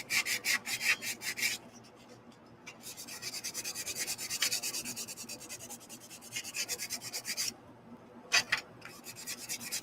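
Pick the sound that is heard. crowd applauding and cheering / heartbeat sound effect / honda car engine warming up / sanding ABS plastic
sanding ABS plastic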